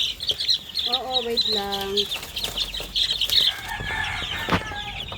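Hens and chicks cluck and cheep, with wings flapping in bursts, as the chicks are moved to a new pen; the sounds are close and lively, and a person speaks briefly among them.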